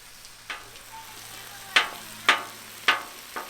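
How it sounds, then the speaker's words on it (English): Bread spread with mayonnaise toasts on a Pit Boss flat top griddle, a low steady sizzle broken by four or five sharp scraping clacks of a spatula, close and clear. "We're going to throw it down on our grill and get that nice and toasty while we're waiting for our eggs and our meat to finish cooking."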